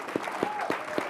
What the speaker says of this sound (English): could we clap it up for him?